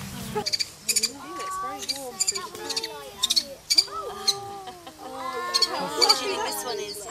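A male bird calls close by in rapid bursts of clucking, chattering notes, pausing briefly between runs.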